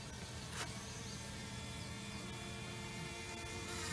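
Greenhouse pollinator bees buzzing inside an opened hive, a dense steady drone of many insects close by, with no talking.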